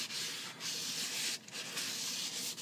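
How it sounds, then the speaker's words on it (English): Wet sandpaper rubbing steadily across the body of a Stella guitar during a restoration, a close, continuous gritty scraping with brief dips and strokes, no voices. "It provides a place for the sandpaper to glide"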